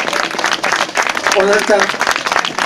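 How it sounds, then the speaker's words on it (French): A large crowd of about five thousand people applauds at an outdoor village event, a loud dense wash of clapping that swells and holds, while someone talks over it on a microphone. "Tonnerre d'applaudissements."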